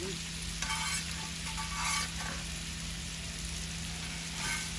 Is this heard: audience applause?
no